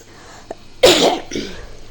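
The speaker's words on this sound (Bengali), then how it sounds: "বারবার খালি কাশি আসে" A woman with an irritated throat lets out one loud, harsh cough close by, trailing into a softer breathy rasp, with only faint background noise before and after.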